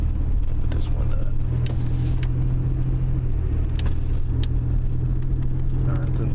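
A GM car with a TH125C automatic transmission cruises in third gear, its engine giving a steady low drone with road rumble throughout, while a voice speaks quietly over it.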